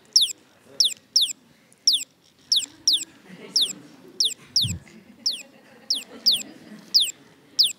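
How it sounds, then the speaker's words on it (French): A recorded bird call played back in a room repeats as sharp, high chirps in steady pairs and short groups, loud and clear over a soft low room murmur. "Vous l'entendez, l'oiseau?"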